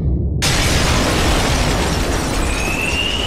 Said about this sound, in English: The glass window's all shattered!